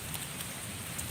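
A brief stretch of the first Baishakh rain pattering on surfaces outdoors, an even, moderately faint hiss throughout.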